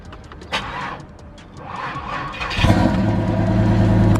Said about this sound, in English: So I barely start the Grand Prix.